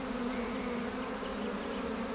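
A dense swarm of angry bees buzzes continuously around a hive as a honey collector climbs down among them, a steady close drone with no voices.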